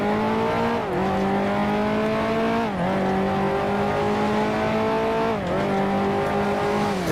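A 1955 Formula One car in the video game Grand Prix Legends, racing through Monaco: a loud, steady engine drone that holds its pitch and dips briefly at each gear change, about three times.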